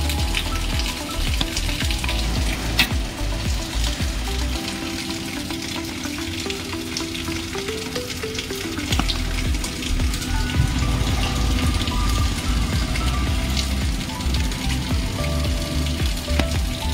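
Rain falls on the protective sheet covering an outdoor construction site during a Daikin VRV S commissioning, a dense, continuous sizzling patter that stays loud and steady throughout.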